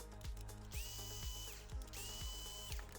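A power drill running steadily while backing screws out of the LED panel on a 2018-2024 Toyota Camry, with a continuous motor whine and a repeating ratcheting pulse, two rising pitch sweeps, close and alone.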